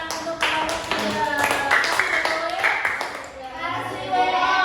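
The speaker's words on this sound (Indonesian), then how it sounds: "tepuk tangan untuk kamu ya" Children in an elementary classroom clap together in a quick patterned rhythm during a science lesson on forces, close and lively, mixed with young voices talking.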